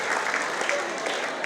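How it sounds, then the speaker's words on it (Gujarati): Audience at a youth association prize distribution and honour ceremony breaking into loud, dense applause, an even wash of many hands clapping briefly with a voice faintly beneath. "એકવાર એમને પણ જોરદાર તાળીઓના ગડગડાટ વડે આપણે વધાવી દીધું"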